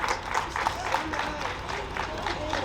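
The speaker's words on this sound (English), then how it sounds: "Can we give everyone here a round of applause?" Applause from a gathered crowd at a Palestinian flag raising ceremony in Paterson, steady rhythmic clapping heard from a middle distance at moderate level.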